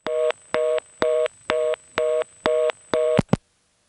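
A telephone reorder tone on an NX1 switch in Farmville, North Carolina, from 1977: about seven fast, even on-off beeps of a steady dual tone, loud and clear, ending in two short clicks and then silence.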